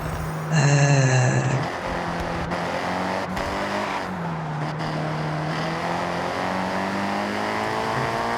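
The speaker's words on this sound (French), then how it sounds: "enfin de la conduite sur terre" A car in Forza Horizon 6 drives along dirt forest trails, its engine droning steadily with pitch shifts as it revs and shifts gears, alongside a brief tonal whine at the start and occasional sharp clicks.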